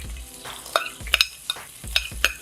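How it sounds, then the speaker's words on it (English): Garlic, onions and ginger sautéing in a pan, a steady low sizzle broken by several sharp scrapes and clacks of a utensil stirring, close and alone. "So let's start sauteing some of our ingredients. A little bit of garlic, tablespoon or so."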